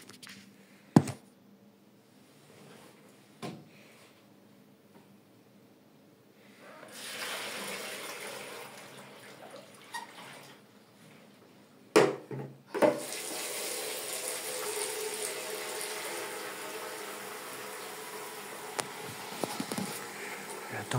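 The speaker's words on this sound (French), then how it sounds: "Je vais mettre l'eau chaude dedans." Hot water runs from a tap into a washing basin, starting softly, then a few clunks and a stronger steady gush from about halfway as the tub fills; close and moderately loud, with no talk over it.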